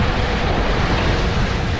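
Strong storm winds batter a roadside in Agios Konstantinos on Samos, a steady, loud broadband roar with constant gusting buffets across the microphone, no voices over it.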